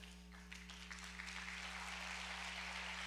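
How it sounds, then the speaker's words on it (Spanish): Applause from a church congregation during a sermon, faint, distant clapping that builds into a steady patter over a constant low electrical hum, with no talking. "Este es el primer aplauso del 2025 en la iglesia."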